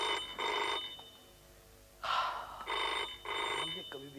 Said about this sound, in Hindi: काले साहब का फोन उठाओ